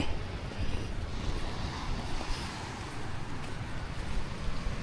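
Strong Amihan monsoon wind gusting across a rocky coast where fishing boats sit beached, a loud continuous roar and buffeting on the microphone with surf mixed in, no voices.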